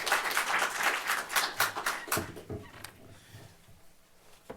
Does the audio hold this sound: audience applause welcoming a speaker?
yes